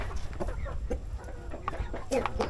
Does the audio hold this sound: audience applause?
no